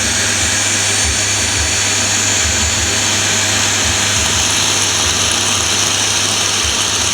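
A vacuum cleaner switched on and run to blow through a filed K126B carburetor, a loud, steady broadband roar and whine holding constant throughout, with a low hum beneath.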